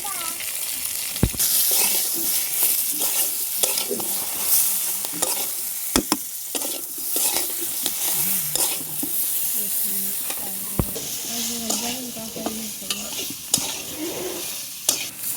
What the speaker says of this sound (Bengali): বেগুনটা আদা ভাজা করে নিলাম